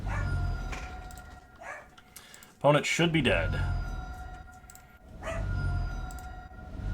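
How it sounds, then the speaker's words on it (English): A pet dog barks in the background of a home setting during an online card game session, short yips and barks mixed under steady close talk from a man. "I apologize for the dog barking."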